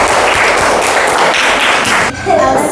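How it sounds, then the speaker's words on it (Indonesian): A classroom audience applauds a student group, dense loud clapping that carries on steadily before breaking off near the end as a voice begins. "tepuk tangan untuk kelompok 1"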